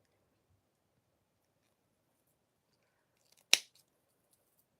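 Scissors snip once through yarn on a beaded keychain, a single sharp close cut in otherwise near-silent surroundings.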